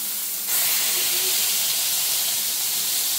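A prime rib burger patty, 80-20 beef, smashed onto a hot griddle gives a sudden loud sizzling hiss that starts abruptly and holds steady and close, with no talking.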